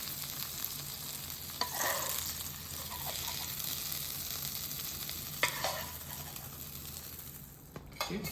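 Onions, garlic and chilies stir-fry in a pan for a Creole salted fish dish, a soft steady sizzle with a few spatula scrapes and clinks, fairly quiet and with no voices.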